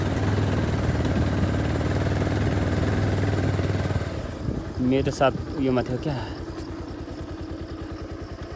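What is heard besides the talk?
motorcycle engine running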